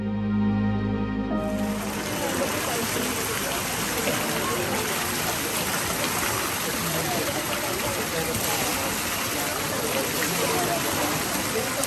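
Water pouring steadily from the stone fountain spouts at Tirta Empul Temple in Bali, a loud, dense rushing splash that fills the scene after a short quieter moment at the start.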